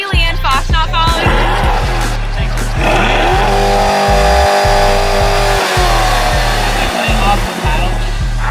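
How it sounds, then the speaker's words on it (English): A Chevrolet Corvette C8 roars past close by, its loud engine rising and falling through rapid gear changes, harsh and sustained over several seconds with no clear voices. "trying to see your favorite YouTuber drive by in a C8"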